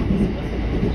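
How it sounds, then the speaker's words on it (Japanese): Onboard a JR West 225 series electric train on a rapid service, a steady low rumble of running wheels and motor hum fills the cabin in a brief, even stretch. "今乗ってるのは225系電車です。"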